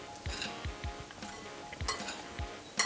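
A spoon mixes mango, avocado, rocket and sliced chili salad in a bowl, giving soft clinks and scrapes against the bowl with a few brighter knocks, close and quiet, with no voices.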